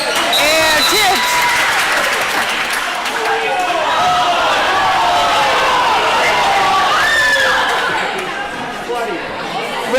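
Basketball crowd at a boys varsity high school game, Whitehall vs ILHS, reacting with displeasure to a referee call, a loud sustained roar of voices and shouts filling the gym, with an announcer talking over it.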